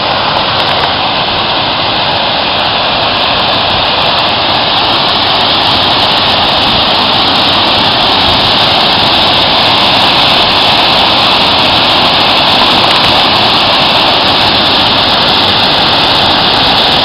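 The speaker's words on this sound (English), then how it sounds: "Okay, river waterfall." A river waterfall along a cold, wooded trail near a fishing spot sends up a steady, loud rushing roar that holds constant throughout, with no voices.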